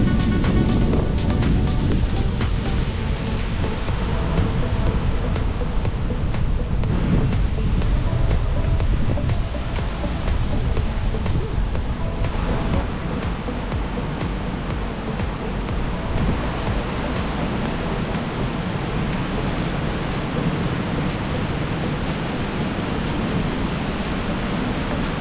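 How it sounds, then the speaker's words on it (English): Wind gusts and waves on the Lake Erie shore at Presque Isle State Park, Pennsylvania, a constant rushing roar with surf washing in and out, loud and continuous with no voices. "You can see it was quite windy at this point."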